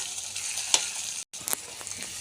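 Spices for a tempering fry in hot oil in a pan, ahead of an eggplant fry, a soft steady sizzle with a brief stir sound and a short dropout partway through.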